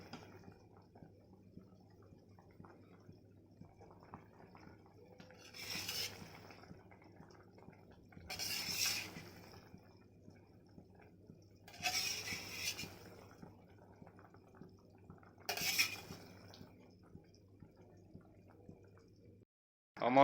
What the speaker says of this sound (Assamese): এতিয়া আমি যিখিনি কণী ভাজিছিলোঁ ইয়াত দি দিম।